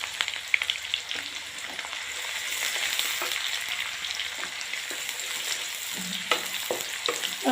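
Garlic, onion and green chilies fry in a pan for a garlic sev curry, giving a steady, close sizzle with occasional scraping stirs and small pops.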